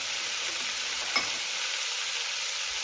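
Ground meat browning in a pan with garlic and whole allspice, a steady close sizzle and frying hiss with one brief stir or scrape partway through, no voices.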